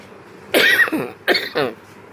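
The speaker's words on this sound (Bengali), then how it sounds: "কাশি হয়েছে তো" Two close, sharp coughs in quick succession, each a rough burst followed by a brief rasp, then quiet.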